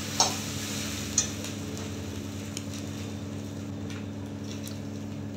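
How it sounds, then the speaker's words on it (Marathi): Okra cooking in a covered pan gives a soft, steady sizzle, broken by a couple of sharp utensil clinks and faint stirring taps, close and without talk. "भेंडी आपली शिजायला लागलेली आहे."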